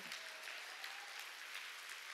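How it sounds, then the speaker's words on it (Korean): Church congregation at a summer mountain revival meeting applauding, a steady, even patter of many hands clapping that continues throughout at moderate loudness from a distance, with no talk over it. "깨달은 사람만 박수 쳐요."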